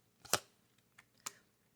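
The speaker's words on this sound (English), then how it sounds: "I'm going to lay out 2 more cards." Tarot cards being laid out on a table give a couple of faint, brief snaps and slaps with quiet gaps between them.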